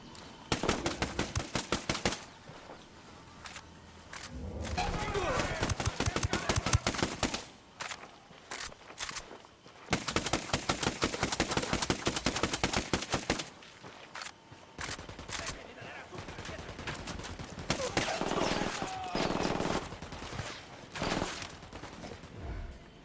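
Bursts of automatic gunfire and single shots crack repeatedly in the tactical shooter Ghost Recon Wildlands, loud and close, in dense volleys broken by short pauses, with occasional voices between them.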